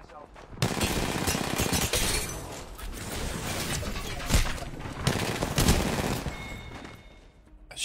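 Rapid gunfire bursts from an Apex Legends match, loud and dense with sharp cracks and shattering impacts, continuous across the stretch with a few heavier blasts standing out.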